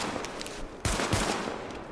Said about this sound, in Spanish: Ahora nos podemos apañar con la pistolita